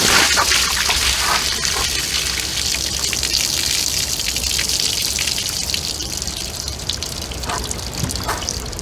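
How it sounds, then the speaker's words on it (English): Water gushes loudly out of an outdoor maple syrup boiling pan as it is tipped and emptied, a dense, continuous rushing pour that holds steady for the whole stretch, close by, with no talking. "I'm going to dump the water out."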